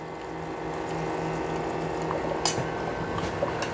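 A Keurig K-Brew+Chill coffee maker brewing and cooling water gives a steady mechanical whir and gurgling flow at close range, with a constant hum and a few brief clicks and splashes near the end.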